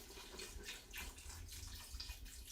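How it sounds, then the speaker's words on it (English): Beef broth is poured into an Instant Pot in a home kitchen, a faint, steady liquid splashing and trickling that runs unbroken for a couple of seconds with no talking. "So I'm pouring a little bit of this beef broth in here."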